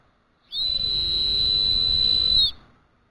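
Homemade tube whistle blown hard, giving one piercing, sustained high-pitched shriek lasting about two seconds, very loud and close, with a breathy rush underneath and abrupt start and stop.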